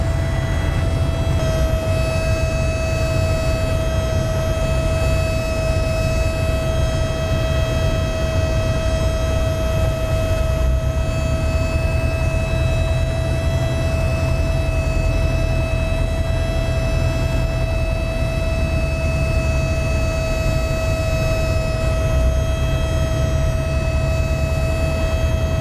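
A Piper Super Cub's engine drones continuously and loudly with a steady tonal whine through a touch-and-go on runway 07, the wideband roar and wind noise filling the whole stretch with no pause.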